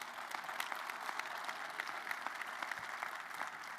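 Sustained audience applause at a basketball coach's introductory press conference, a dense steady patter of many hands clapping with scattered sharper claps, continuous from start to finish with no voices over it.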